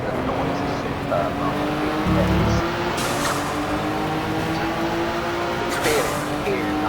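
Race cars roar close behind the player in rFactor with a Nissan Skyline mod, a dense, continuous engine drone with a brief tire-squeal-like burst, loud and steady, while a voice talks over it.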